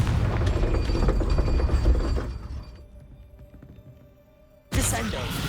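Confringo fire-blast spell cast in Hogwarts Legacy: a dense, loud burst of booming, crackling magic that fades into a quieter hum, then erupts again in a sudden sharp blast near the end.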